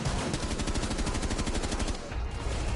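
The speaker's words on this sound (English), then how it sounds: "Oh, you're shooting me." Rapid gunfire rattles in a steady, continuous stream during a Rainbow Six Siege match, loud and close, with dense repeated shots filling the whole stretch.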